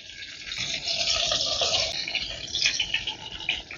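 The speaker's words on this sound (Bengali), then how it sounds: "এবারে আমি বেগুনগুলো ভেজে নিচ্ছি।" Eggplant fries in hot mustard oil in a wok, giving a steady, close, bright sizzle with crackling fluctuations and no talking.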